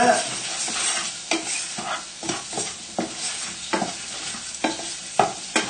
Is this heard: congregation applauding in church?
no